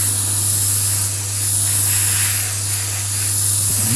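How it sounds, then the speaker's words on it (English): Airbrushed spray paint on a model railway wagon, a Revolution IHA-F covered steel carrier, gives a steady close airy hiss running the whole time over a low constant hum. "I try and spray down"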